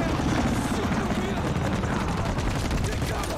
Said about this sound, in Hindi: अंदर हो जाओ भाई, हेलीकॉप्टर आ गया यार